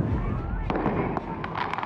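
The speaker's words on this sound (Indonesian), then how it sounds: "Para remaja nekat saling lempar petasan di jalan raya." Firecrackers thrown between groups of teenagers on a main road in Brebes, Central Java, heard as a few sharp bangs over a dense, noisy background of crowd and street roar.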